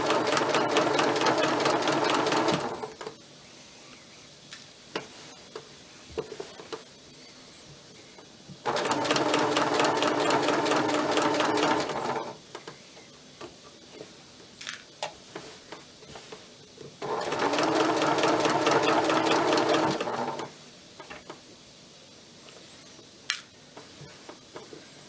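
A sewing machine stitches around a curved collar edge in three bursts of fast, even mechanical whirring, each a few seconds long, separated by quieter pauses with small clicks and handling noises, close and loud.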